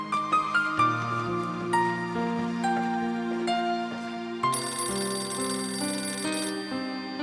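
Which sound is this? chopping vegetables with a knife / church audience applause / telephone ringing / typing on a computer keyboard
telephone ringing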